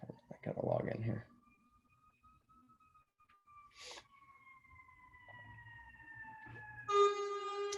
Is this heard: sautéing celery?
no